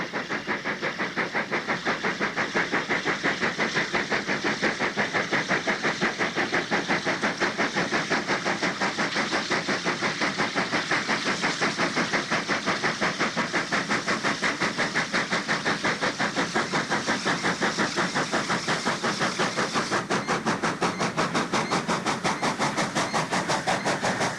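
Steam locomotive 3467 works hard climbing out of Orange River before a winter dawn in 1990, with a steady, rapid exhaust beat that stays loud and close throughout and has no voices.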